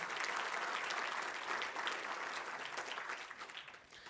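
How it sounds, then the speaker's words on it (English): Audience applause at a chairman's inaugural address, dense and steady clapping from a sizeable crowd, gradually thinning toward the end. "If I could have a round of applause for them."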